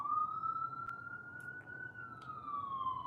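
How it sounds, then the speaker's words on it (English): An ambulance siren passes by, its wailing tone rising and then falling as it moves, heard at moderate distance over light street background. "Let me let these ambulances go by"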